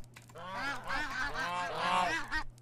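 Baby turkeys from the Better Animals Plus mod in Minecraft 1.18.1 make a continuous stretch of squeaky, honking calls, close and fairly faint, with no talking over them.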